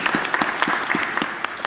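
An audience at a panel debate on God and meaning claps for the speakers in a short burst, with a few distinct, close, loud claps punctuating the room's lighter clapping.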